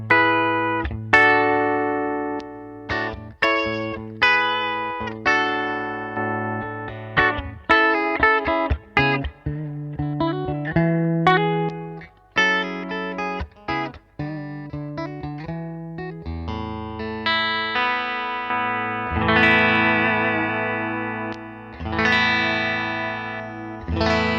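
A Fender Ultra Luxe HSS Stratocaster on its humbucker rings out a series of strummed electric guitar chords, each struck and left to sustain before the next, clean and close with no talking.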